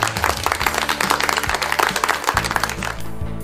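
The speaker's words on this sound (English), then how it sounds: "big clap." A group of children claps hands together in a quick, rapid patter of applause lasting a few seconds, with steady low tones running underneath.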